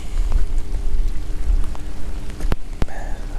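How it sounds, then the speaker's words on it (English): Rain falling at Massey's Landing fishing pier in Delaware, a steady close patter of drops on surfaces with a few sharp louder drip hits, continuous and fairly loud with no talk. "Our rain has picked back up again."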